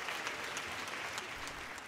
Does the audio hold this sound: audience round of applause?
yes